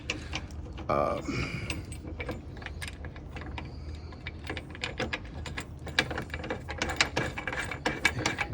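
Ratchet tightening bolts while a RetraxOne XR tonneau cover is fitted to a 2024 Toyota Tacoma, with rapid bursts of close clicking pawl strokes and a few metallic clinks.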